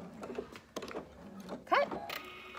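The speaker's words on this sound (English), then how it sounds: "And I'm gonna sew across the top." A sewing machine stitches across the top of a fabric market bag with a couple of backstitches, giving short mechanical whirring bursts and clicks, close and fairly quiet.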